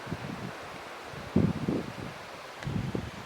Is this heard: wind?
yes